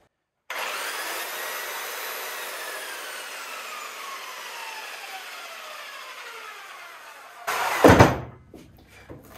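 A heavy Makita belt sander runs on wood under its own weight, a steady whining motor hum with a slowly falling tone that ends in a loud clattering burst near the end, with no talking.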